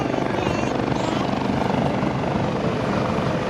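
A US Coast Guard helicopter's loud, steady rotor thumping and engine roar at an airshow demonstration, close and continuous, filling the whole stretch without letup.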